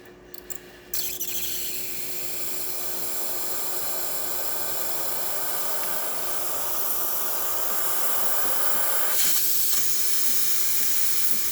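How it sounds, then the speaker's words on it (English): Steam hissing loudly and steadily from the steam wand of a Breville espresso machine with a fault that keeps it from building pressure. A faint steady hum runs underneath, and brief clicks mark the start. "we can see steam now coming out of the machine"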